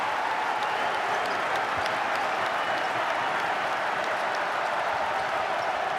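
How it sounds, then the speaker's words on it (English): Basketball arena crowd applauding steadily during Ohio State at Rutgers, a dense, continuous wash of clapping with a faint murmur of voices underneath, loud and unbroken throughout. "Here comes the pressure, here comes the crowd."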